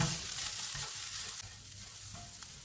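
Ground red chilli, turmeric and amchur powder roast in a pan for aloo kachori filling, a soft continuous sizzle with light stirring scrapes, close and quiet.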